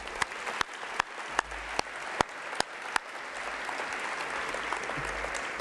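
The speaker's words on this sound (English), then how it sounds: "Please give them a round of applause." Luncheon guests at a college's State of the College event applaud the chef, kitchen team and servers, steady moderate clapping with several sharp, distinct claps close by near the start.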